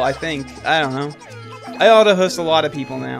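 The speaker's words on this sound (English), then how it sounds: "Yeah, that's my cat." A pet cat meows a couple of times, close and fairly loud, mixed in with ongoing casual conversation.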